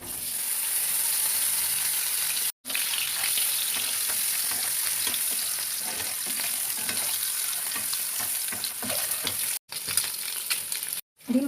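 Eggs frying in mustard oil in a wok give a constant close hiss and crackle with light stirring clicks, cut by a few brief silent gaps and no talk.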